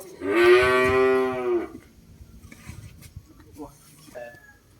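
A cow lets out one long, loud lowing moo lasting about a second and a half, followed by quieter rustling and faint background noises.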